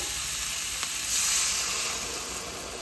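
Water poured into a long bean curry in a hot pan sets off a burst of steady sizzling and hissing that swells briefly, then settles into a continuous fry with no talking.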